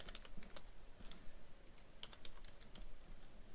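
Quiet, fast typing on a computer keyboard while writing Excel VBA code, with an irregular patter of light clicking keystrokes close by and no one speaking.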